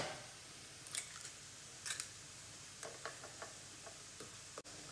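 Grated potato mixed with egg, pepper and salt being stirred in a bowl, giving a few soft, scattered scraping and clinking strokes against a quiet background.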